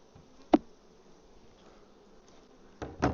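Honey bees in an opened hive during an inspection give a faint low buzz, broken by two brief, louder bursts as insects pass close.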